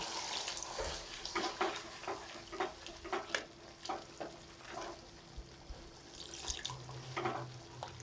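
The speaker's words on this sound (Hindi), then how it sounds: "अब मैं हल्का सा इसको पानी डालूंगी।" Water pours into a simmering potato curry in a pan, a close, splashing, trickling rush over a faint bubbling sizzle, with no voices.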